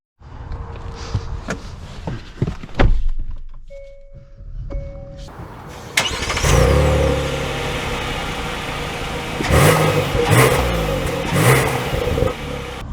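2024 Hyundai Palisade Calligraphy starting up, with a few cabin clicks and chimes, then an engine note that swells into a steady drone as the SUV pulls away, with louder surges of acceleration heard from inside.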